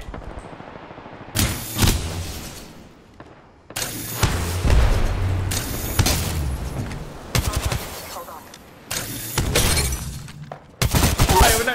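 Video game gunfire crashes out in about six loud, sustained bursts separated by short lulls, close and harsh, with a voice speaking between and under the volleys.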